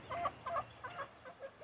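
Chickens cluck nearby in a short series of soft, rhythmic clucks, about five or six in quick succession.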